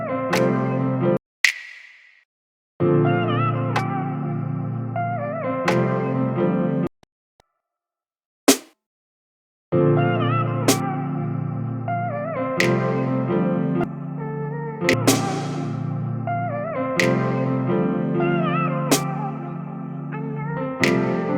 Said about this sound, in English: Add some reverb to this snap